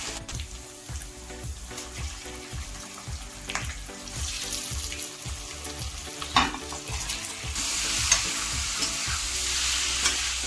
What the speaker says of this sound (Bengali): সমস্ত মশলা কষানো হয়ে গেলে আমি এবার এতে ম্যারিনেট করা চিকেনটাকে দিয়ে দেব